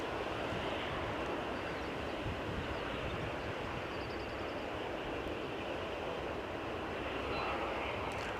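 An EasyJet airliner moving at Edinburgh Airport on a windy day makes a steady, broad engine roar that holds evenly throughout, at moderate distance and mixed with wind noise.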